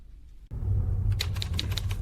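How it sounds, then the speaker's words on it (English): An old antique typewriter in a video game, rapid mechanical keystrokes clacking in a quick run after a low background hum starts up, fairly loud and close. "A typewriter. It looks old, like an antique."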